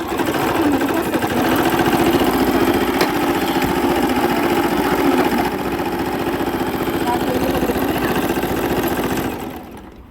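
A Singer M3505 sewing machine stitches steadily at a set stitch length, a loud, fast, continuous whirring chatter lasting nearly ten seconds before slowing near the end.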